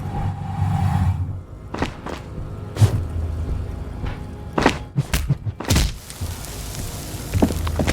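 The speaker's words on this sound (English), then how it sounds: "The man lands with a dull thump, like a broken down puppet of muscles and sinew." A man collapsing in the video game Disco Elysium, heard as dull thuds and thumps scattered over several seconds against a low ambient background.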